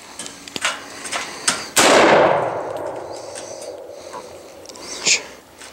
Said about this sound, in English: Drew Moore killing one in the middle of the night with an AR